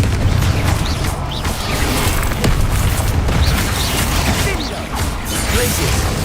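Confringo fire blast spells cast in Hogwarts Legacy: a dense run of booming bursts and crashing impacts, with whooshes over a loud, busy combat din.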